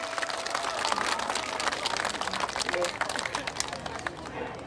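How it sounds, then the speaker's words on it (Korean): Audience at a Korean political party lecture event applauds a guest speaker, a dense, steady patter of many hands clapping at moderate distance, with faint crowd noise underneath throughout. "큰 박수 부탁드리겠습니다"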